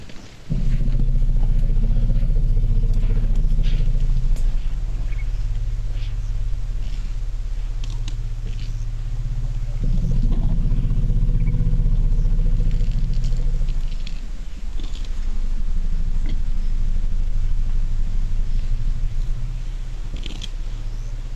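African savanna elephants of a family group trading deep, loud rumbling calls in a conversational cadence, several long low rumbles overlapping and following one another with brief pauses.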